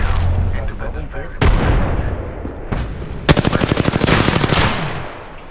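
Rapid bursts of automatic weapon fire and single heavy shots in the Apex Legends battle royale game, loud and close, with a fast rattling stretch near the end, while in-game voice callouts talk over it.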